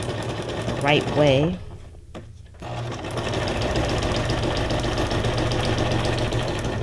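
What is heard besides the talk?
sewing machine running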